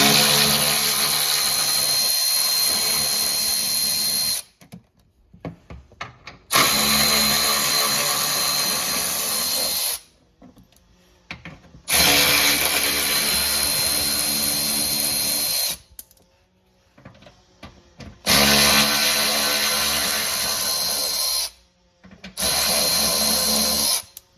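Loud power tool running in repeated bursts of several seconds, stopping and starting five times with short quiet gaps between.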